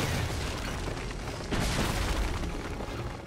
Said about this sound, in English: Don't stand in the way of explosions!